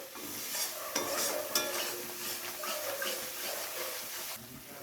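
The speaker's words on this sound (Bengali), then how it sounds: "এবারে মশলাটাকে কিছুক্ষণ একটু কষিয়ে নিতে হবে" Spice paste stir-fried in a pan, a steady soft sizzle under continuous stirring with occasional light spoon knocks against the metal, close and without talk.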